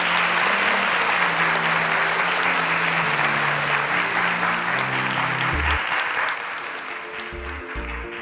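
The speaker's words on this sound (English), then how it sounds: "Let's give a round of applause as Beckam and Michael exit the stage" An audience at a televised competition show applauds continuously, a dense wash of clapping that holds steady then tapers off near the end, with music and a voice underneath.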